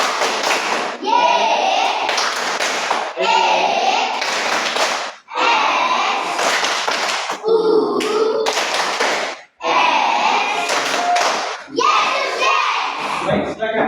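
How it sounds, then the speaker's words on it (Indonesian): A classroom of children claps the 'Tepuk Yesus' rhythm in loud repeated phrases of sharp claps, chanting along between the clapping bursts. "Kita tepuk Yesus lagi dan Yesus."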